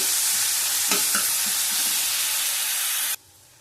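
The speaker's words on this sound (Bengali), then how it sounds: "পেঁয়াজ দিয়ে দিলাম ভালো করে ভেজে নেব" Onions frying in a pan with black cumin for tengra fish curry, a loud even sizzle with a few stirring knocks, cutting off abruptly to near silence near the end.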